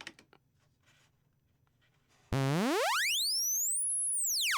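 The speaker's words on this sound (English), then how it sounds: "in that upper register, it just sounds like a sine wave" A loud pure electronic tone sweeping upward from low to very high pitch, with faint higher harmonics, held steady and smooth after a brief quiet start.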